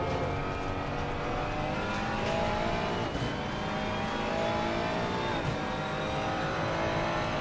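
Race car engine in Assetto Corsa Competizione held at full throttle, a loud, steady high-revving drone with rising pitch sweeps as it accelerates, a brief dip around a gear change, running continuously with no talking.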